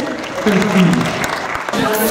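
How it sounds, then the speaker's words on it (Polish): Crowd clapping at a charity auction for the Great Orchestra of Christmas Charity, cheering a raised bid: a short, lively burst of hands mixed with voices and murmuring around it, fairly close and loud. "Duże brawa."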